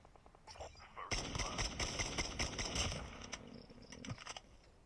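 Rapid bursts of SKS rifle fire in the mobile shooter COD Mobile battle royale, a quick string of sharp shots clustered together, fairly faint in the mix with a few scattered pops before and after.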